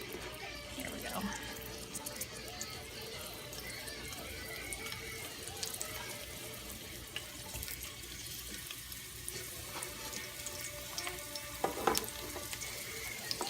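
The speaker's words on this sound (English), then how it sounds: "So let's get these in the pan. Oh, yeah, it's bubbling." Garlic frying in oil in a pan while cooking an Asian noodle dish with scallops: a steady bubbling sizzle, close and constant, with a person talking over it.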